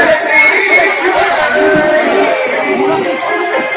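Dense crowd chatter fills the riverside Digha Ghat in Patna during Chhath Puja 2022, a continuous loud murmur of many voices with occasional children's shouts.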